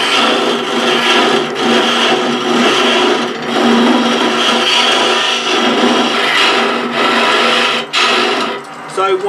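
Hope Easy Arm woodturning hollowing rig cutting into wood on a lathe, a loud, continuous rough scraping and whirring with rhythmic surges as the cutter bites, close and dominant throughout.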